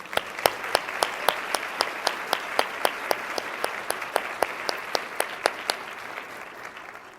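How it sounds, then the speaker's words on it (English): Sparse clapping from a small group at a conference luncheon, a steady run of sharp claps that thins out and fades near the end. "I think that we can all agree that maybe one more round of applause for Diane."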